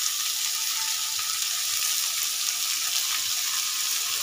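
Salted onions frying in a pan give a steady, loud, continuous sizzle with no pauses and no talking.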